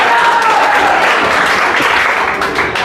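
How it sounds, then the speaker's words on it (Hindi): Loud, dense applause from an audience fills the whole stretch, a steady wash of many hands clapping close up with no pauses. "तालियां तालियां तालियां, जोरदार तालियां।"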